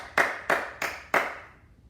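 A few sharp hand claps from a church congregation, four distinct claps at an uneven pace, fairly close and fading into a quiet room afterward.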